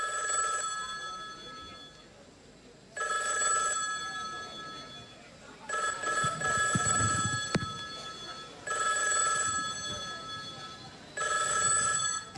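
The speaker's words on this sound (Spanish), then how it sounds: "¡Se contesta el teléfono!" A telephone rings in repeated bursts at a Teletón stage show featuring the Flintstones, four or five electronic trills separated by short pauses, with a brief low rumble of stage noise between rings.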